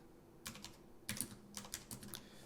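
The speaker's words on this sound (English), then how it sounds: "what I'm going to do is I'm going to hit F3 and type in bake" Fingers tap out quick, crisp bursts of keystrokes on a computer keyboard, a few short clusters of clicks close up in a quiet room.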